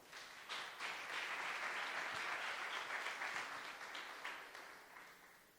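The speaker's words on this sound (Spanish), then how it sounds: "Un aplauso a Felipe, por favor" A congregation at a sermon gives a sustained round of applause, a steady wash of many hands clapping at a moderate distance that gradually eases off toward the end.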